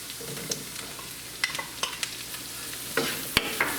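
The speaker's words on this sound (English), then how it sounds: "we're going to add our sliced baby bella mushrooms" Sliced baby bella mushrooms sauté in a hot pan, giving a steady sizzle with scattered stirring scrapes and clicks close up, and no talking.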